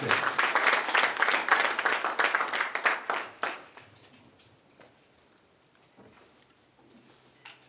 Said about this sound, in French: Je voudrais qu'on acclame très fort Madame Mel Marcel.